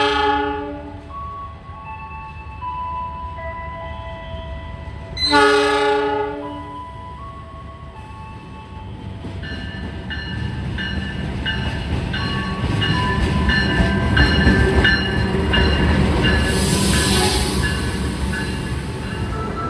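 The Argo Wilis passenger train, bound for Bandung from Surabaya, pulls in, its horn sounding in two blasts, then a rising rumble and clatter of wheels as the cars roll closer, with a squeal near the end.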